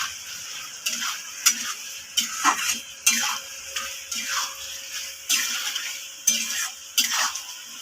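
Spoon stirring chili chicken with added sugar in a pan, repeated scraping clinks against the metal at a steady pace, with a faint sizzle underneath.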